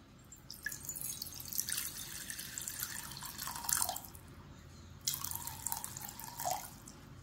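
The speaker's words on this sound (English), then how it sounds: "this is how the water flows through this opening" Water pours out through the drinking opening of a YETI Rambler travel mug with a Stronghold lid, heard as two separate bursts of splashing, dripping flow into a sink, close by, with no talking.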